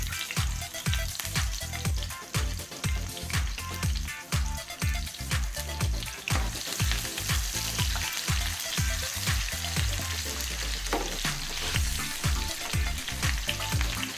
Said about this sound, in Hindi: तड़के के लिए 2 चम्मच घी डालेंगे। एक प्याज लिया है हमने।